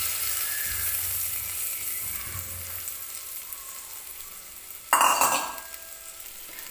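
Pavta beans roast with spices in oil, a quiet steady sizzle that fades slightly before a sudden louder burst of stirring and crackle near the end, with no voices.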